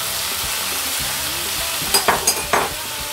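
Chicken pie filling with carrots sizzles loudly and steadily in a pan, and a quick burst of four or five scraping stirs comes near the end.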